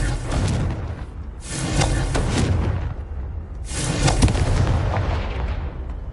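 The Confringo explosion spell in Hogwarts Legacy sets off two big booming blasts, each with a rumbling, roaring tail, loud and close with no talk.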